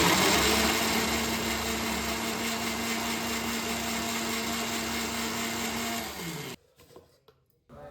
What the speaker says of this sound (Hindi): तो फ्रेंड्स प्याज हमने काट ली है, अब इसको जल्दी से पीस लेते हैं